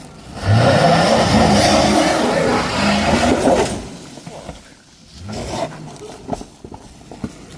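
A Toyota Land Cruiser engine revs hard while off-roading, a loud close roar for about three seconds that drops away, then shorter bursts of revving and rumbling with occasional clunks.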